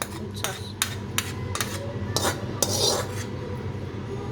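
Metal utensils clinking and scraping against a dish while mixing hot gobi (cauliflower) for dinner, a series of sharp irregular taps and rubs, close and fairly loud, with faint background noise between them.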